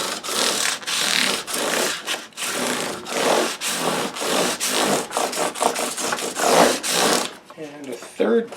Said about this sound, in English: Now I'm going full length with 600 grit, a few passes.